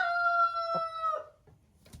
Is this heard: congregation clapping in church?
no